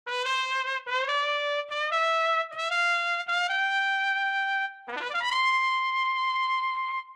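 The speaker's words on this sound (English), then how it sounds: "And grace notes sound like this." A sampled traditional jazz ensemble instrument from a Kontakt library plays a short phrase of notes with quick grace-note ornaments, ending in a long sustained tone with natural vibrato, bright and clear with no voices.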